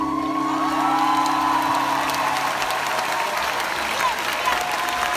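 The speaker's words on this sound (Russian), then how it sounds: "Ваши аплодисменты." Sustained applause from a large concert audience at the New Wave 2021 festival fills the hall, steady and loud throughout, with a tonal hum and faint cheering mixed in.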